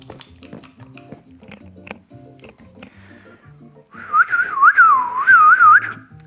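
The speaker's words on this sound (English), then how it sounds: "That's my whistle" A person whistles a wavering, looping tune up close and loud for a couple of seconds, after soft scattered clicks and thumps.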